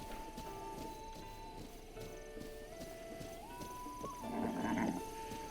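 Horse neighing in Zelda: Breath of the Wild, a spotted horse being registered at a stable, with a whinny rising near the end over steady game music and ambience.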